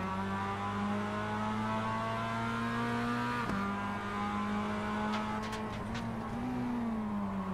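A Mazda MX5 race car in a racing sim video game holds a steady, loud engine drone, then shifts down quickly and the pitch dips and climbs again, with no voices.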